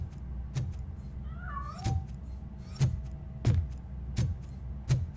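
A cat meows repeatedly in the video game Robocop: Rogue City, several short, fairly close calls spaced about a second apart over a low background hum.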